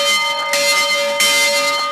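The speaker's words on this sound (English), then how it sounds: "has earned the right to ring the victory bell for Coach Glenn Caruso" The victory bell at a University of St. Thomas Tommies football celebration rings loudly in repeated strikes, each bright clang sustaining and overlapping the next, with no voices over it.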